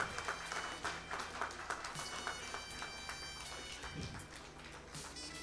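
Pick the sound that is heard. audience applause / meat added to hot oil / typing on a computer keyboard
audience applause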